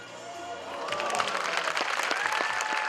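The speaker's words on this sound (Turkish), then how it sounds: "Berdi Muhammedov'un bu şovu izleyicilerden büyük alkış aldı" Hippodrome spectators applauding Berdimuhamedov's horse show, dense crowd clapping rising after the first second and continuing steadily, with faint tonal sounds beneath.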